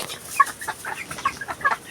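Chickens clucking nearby in short, irregular bursts, several soft calls overlapping over a couple of seconds.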